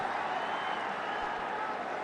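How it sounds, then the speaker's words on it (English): A cricket crowd at a one-day international between India and England in Cuttack cheers a batsman's fifty, producing a broad, steady roar of mixed voices and clapping that holds at a constant level. "Crowd have gone wild here."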